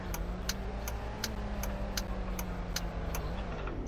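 A car engine idles and creeps along while parking in a realistic driving video game, with a low steady hum under regular, evenly spaced ticking clicks.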